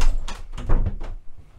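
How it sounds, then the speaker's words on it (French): An interior door is pulled shut, giving a couple of close, low thuds and a muffled knock in a quiet room. "Je ferme la porte."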